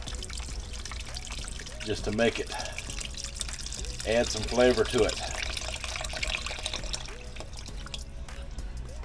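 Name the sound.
pouring chicken stock from a container into soup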